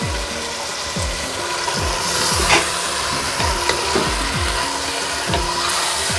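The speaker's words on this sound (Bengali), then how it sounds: "মাংসটাকে নেড়ে চেড়ে দেবো, তারপরে ভালো করে কষিয়ে নেব।" Mutton pieces with whole green chilies fry in a pan, a steady sizzle broken by a regular series of scraping stirs roughly every second, close and fairly loud with no talking.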